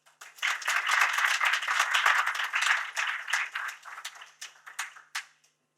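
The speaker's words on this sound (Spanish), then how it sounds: "Les pido que recibamos a doña María Teresa Infante con un gran aplauso." A book launch audience claps to welcome a speaker: a moderate burst of applause from a modest crowd that starts quickly, holds for a few seconds, then thins into scattered individual claps before stopping.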